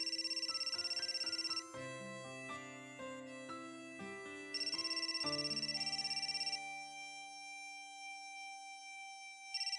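A phone ringtone rings in repeated melodic bursts, clear and close, with no talking.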